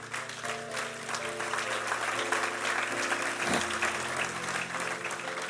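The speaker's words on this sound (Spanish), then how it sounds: "Dar un aplauso al Señor." Church congregation applauding steadily throughout, a dense wash of clapping under a sustained organ or keyboard chord, with no speech over it.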